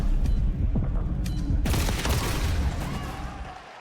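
Grenade blast in a Call of Duty match, a sharp broadband burst that cuts in abruptly and lingers under continuous game noise and gunfire, loud and close.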